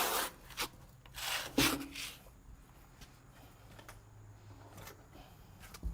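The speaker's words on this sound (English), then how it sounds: "he's going to continue to broom" A broom scrapes across fresh wet concrete for a broom finish, giving soft, fairly quiet rasping strokes, a few stronger ones early and then lighter, steadier brushing.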